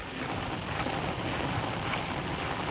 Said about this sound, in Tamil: இங்கே பாருங்கள் எப்படி ஓடுது பாருங்கள் தண்ணி